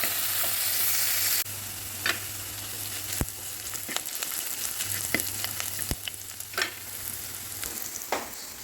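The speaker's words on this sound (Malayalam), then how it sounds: "ഇപ്പോൾ ചെറിയുള്ളിയും കൂടി ചേർത്ത് കൊടുത്തിട്ടുണ്ട് അങ്ങനെ അതൊന്ന് മൂപ്പിച്ചെടുക്കാം" Shallots, crushed garlic and green chilies sauté in a pan with a steady close sizzle, punctuated by sharp clicks and scrapes of stirring at irregular intervals.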